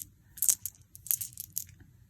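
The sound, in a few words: glass faceted beads rattling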